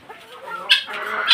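Hens on a home poultry setup give a few short, close clucks in a brief burst, with no talking.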